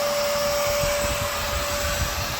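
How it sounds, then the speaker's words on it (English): A carpet extractor works over a dirty gray seat belt in a 1997 Z28, giving a steady, loud whirring suction roar with a constant high whine that runs unbroken throughout. "Get after this with the extractor and I'll give you a little bit of the result."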